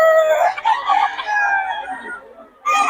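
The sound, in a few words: rooster crowing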